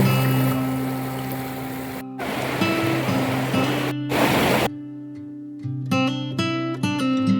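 Broadband rushing water by a riverbed among rocks at a riverside camp near Manali, loud and steady, broken by brief gaps, with clear tonal music or ringing pitches carrying over the flow in the second half.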